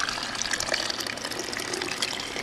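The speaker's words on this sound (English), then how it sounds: "I'm going to come over and take some of this hot juice and pour it in" Hot homemade tomato juice pours through a funnel into a glass canning jar, a steady close liquid gush filling the jar with no talk.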